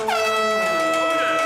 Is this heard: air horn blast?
yes